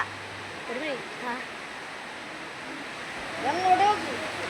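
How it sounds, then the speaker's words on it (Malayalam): Heavy rain falls around a raised shelter. A steady, dense hiss of rainfall continues throughout while voices talk faintly over it. "ഭയങ്കര മഴയാണ്. പൊടിമഴ, പൊടിമഴ."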